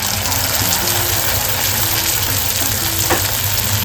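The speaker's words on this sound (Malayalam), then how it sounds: "എണ്ണ നല്ല പോലെ ചൂടായിട്ടുണ്ട് ഇതിലോട്ട് നമുക്ക് പരത്തി വെച്ച ബട്ടൂര ഇട്ട് കൊടുക്കാം" Bhatura, rolled-out fried bread, frying in hot oil for chana masala and bhature, giving a steady, dense sizzle and bubbling close by, continuous throughout with no talk.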